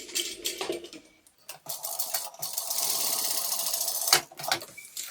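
A home sewing machine runs a steady stitching burst along a half-inch tote bag seam with unadhered foam backing, close and moderately loud, between pauses and small handling clicks.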